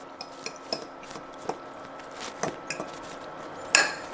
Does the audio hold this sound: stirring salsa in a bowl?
yes